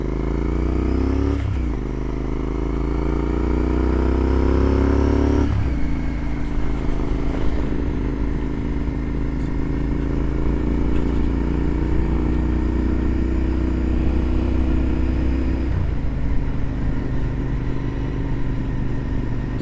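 A Royal Enfield Interceptor 650 motorcycle engine drones steadily at cruising speed on a countryside ride, close and loud, with gear-shift drops in pitch and a raspy note as the throttle eases off.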